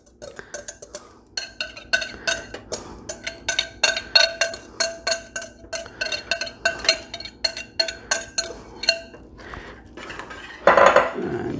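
A utensil stirs chipped beef in a pan, knocking and scraping against the metal in quick rhythmic clinks, roughly twenty strokes in bursts, close and clear, ending with a louder clatter.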